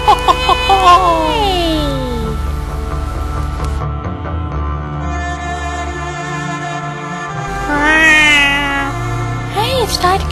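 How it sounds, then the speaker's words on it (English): A kitten meows in several high, sliding cries that come loud and close, with a steady hum underneath and a pause in the middle before the meowing returns. "it's Daitokuji's gay kitten Pharaoh"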